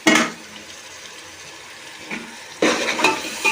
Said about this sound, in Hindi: अब हम इसको भूनेंगे अच्छे तरीके से।